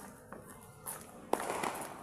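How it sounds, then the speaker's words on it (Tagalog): New Year fireworks crackle and pop in the distance, with a louder burst near the end and a voice faintly in the background. "Fireworks oh."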